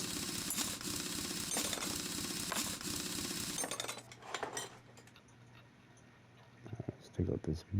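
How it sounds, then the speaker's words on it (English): Rear wheels being removed in Car Mechanic Simulator 2021: rapid mechanical rattling of an impact tool repeating in bursts, then quieter metallic clinks with a few sharp knocks, with some talking. "Alright, pop these rear wheels off."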